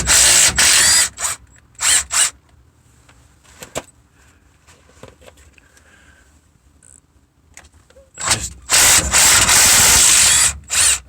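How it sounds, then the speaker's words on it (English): A ratchet clicks in loud, close bursts while backing out the half-inch differential cover bolts on a Ford 10.25 axle from an F-250, with a long quiet stretch of faint handling noise between the opening and closing runs. "So start with taking the diff cover off."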